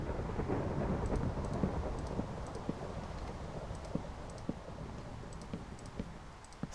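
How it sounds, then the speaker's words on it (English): Rain falls steadily in Minecraft, with a low rumble of thunder early on and scattered sharp drips and ticks of raindrops throughout, fairly faint and without voices. "Hope everybody enjoys a rain in day 6."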